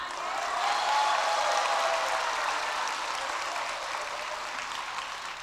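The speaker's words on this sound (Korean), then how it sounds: "박수 소리가 그전 같지 않네." Church congregation at a Christmas-season evening service applauding steadily, a broad dense wash of clapping that holds loud throughout and eases slightly toward the end, with no voices over it.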